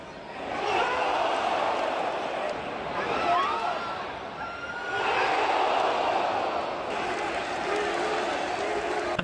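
A football crowd at Old Trafford during a Manchester United match sends up a loud, continuous roar that swells and dips in two broad waves, with shouts rising out of the mass of voices.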